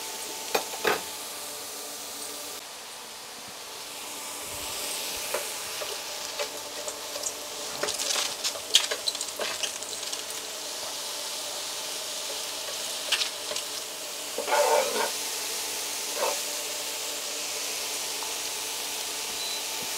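Chanterelle mushrooms fry in plenty of butter in a skillet on low heat, giving a steady close sizzle with scattered crackles and stirring scrapes, no one speaking.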